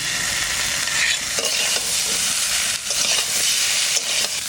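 Raw green banana and potato pieces fry with cumin, coriander and chilli paste in a pan where magur fish and roe were fried, giving a steady loud sizzle with occasional stirring scrapes and no talk.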